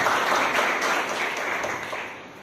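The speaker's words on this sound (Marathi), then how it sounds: "सर्वांनी टाळ्या वाजवून त्यांचं स्वागत करा" A crowd at a municipal council staff workshop claps to welcome a guest on their birthday, a dense even applause that holds steady and then tapers off toward the end.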